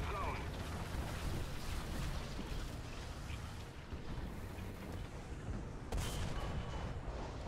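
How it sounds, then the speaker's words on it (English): Artillery fire in the War Thunder tank game: dense, rumbling barrages of heavy booms blend into a continuous roar of battle noise, with one sharper blast near the end. "Artillery fire's coming."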